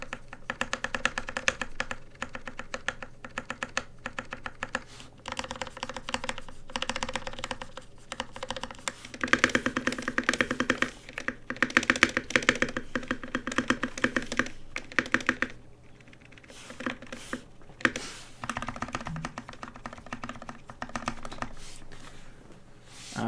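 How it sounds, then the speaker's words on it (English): Steady typing on the modifier keys of a custom NK65 mechanical keyboard, with stabilized keys giving dense clacks and deeper thocks. Bursts run on and off with brief pauses, close and clear, no voices. "I guess I should do the modifiers first, so you can hear the stabilizers at work"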